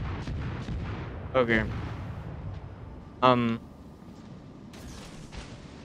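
Battleship guns in the naval game World of Warships: Legends fire two heavy, booming salvos a couple of seconds apart over faint background noise, with brief speech.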